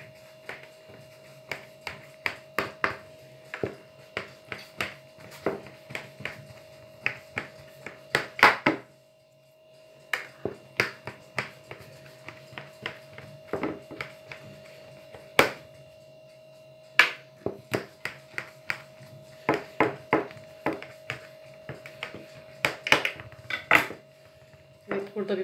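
A knife cuts potato-filled yufka börek into squares in a baking tray, making a long run of sharp, irregular taps and scrapes against the metal, close and fairly quiet, with brief pauses between cuts.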